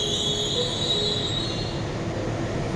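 Pangrango passenger train rolling along the rails, heard from nearby as a continuous low rumble with a thin, steady high wheel squeal fading partway through.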